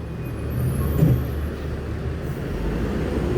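Several intercity buses pulling into a busy West Sumatra bus terminal, including an MPM Jetbus 5, give a steady low engine rumble with a brief louder swell, heard at a moderate distance without speech.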